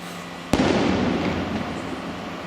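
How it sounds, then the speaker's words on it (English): Fireworks going off at night in India, a single sharp bang followed by a long rumbling, crackling decay that fades slowly, with no voices. "let's have a look at these fireworks. I did not expect fireworks now tonight"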